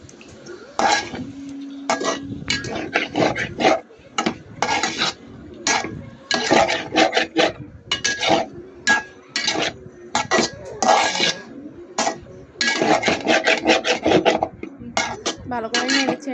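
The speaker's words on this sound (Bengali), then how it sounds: "ভালো করে নেড়ে ছেড়ে নিচ্ছি যেন পাতিলের মধ্যে না লাগে।" Vegetables, egg and spices being stirred in a cooking pot with a metal spoon, loud close scraping and clanking strokes in irregular bursts, without talk.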